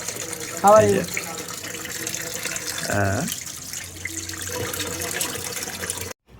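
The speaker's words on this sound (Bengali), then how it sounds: "তারপরে এখানে পরিষ্কার করে ধুয়ে ফেলতেছে" Chicken pieces are rinsed under a running tap for a barbecue, making a steady flow of water with louder splashing bursts. Someone talks over the washing.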